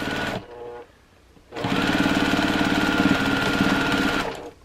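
A sewing machine top stitches close to the edge of a scarf with a hidden zipper, running in a short burst, pausing, then stitching steadily at a fast, even rhythm before stopping.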